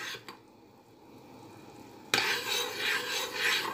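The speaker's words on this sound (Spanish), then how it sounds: "Ya está empezando a hervir, ¿lo veis?" Sauce in a pan comes up to a boil, a soft hissing bubbling that swells abruptly partway through into a louder rough bubbling, with faint stirring scrapes early on.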